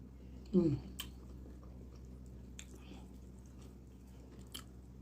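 Close, soft chewing and biting of tilapia fish with fufu and pepper soup, quiet wet mouth sounds with one louder crunchy bite early on and a few faint clicks.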